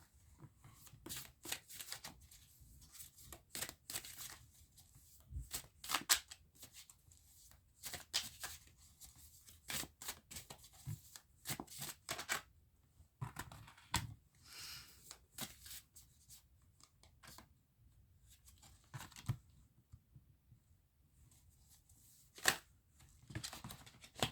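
Llewellyn tarot cards being shuffled by hand in a steady run of crisp riffles and soft flutters, with short pauses between bursts, close and moderately quiet with no talking.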